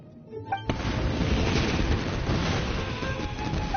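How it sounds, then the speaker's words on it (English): Fireworks boom in the Genshin Impact video game, a sharp burst followed by a sustained dense roar of crackling explosions, loud and continuous. "Yoimiya, this is turning into a bit of a fireworks display"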